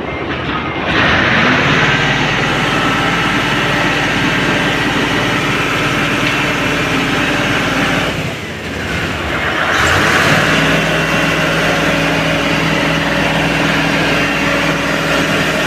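A loud engine drones steadily and close by, with a brief dip in the middle before the rumble resumes at full strength.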